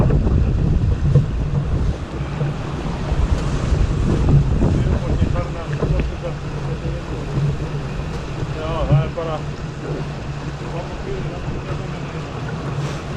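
Strong wind blusters across an open outdoor sailing competition in Iceland, a steady loud rush with buffeting on the microphone throughout, while faint voices and water sounds sit underneath.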